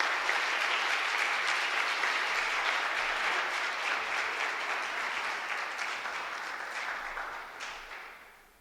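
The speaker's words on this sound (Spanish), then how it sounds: "Fuerte aplauso, ¿vale?" Strong, sustained applause from a conference audience at a fantasy film festival in Elche, a dense wash of clapping that holds steady for several seconds before tapering off near the end.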